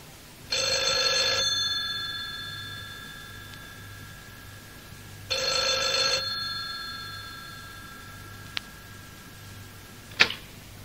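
Telephone ringing in two separate bursts of a bright electronic trill several seconds apart, followed by a couple of sharp clicks as if a receiver is picked up.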